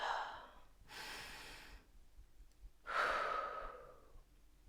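Deep, slow breaths during a chair yoga pose: two long, close exhalations and inhalations, soft and airy, separated by brief quiet pauses.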